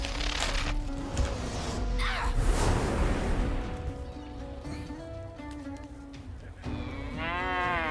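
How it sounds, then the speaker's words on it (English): A cow moos in the video game Divinity Original Sin 2, a loud drawn-out lowing call close by, mixed with game effects and a brief whoosh, with no talking. "Moo."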